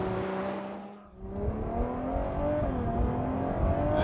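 A Ferrari 812 Superfast V12 accelerates on Italian countryside roads. The engine note climbs, dips briefly at a shift, then rises strongly and steadily again with no voices.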